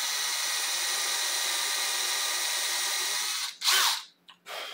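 A power drill bores holes into the body of a Fender Squier P-Bass, a steady loud whine for about three and a half seconds that cuts off, followed by a couple of short bursts with gaps between.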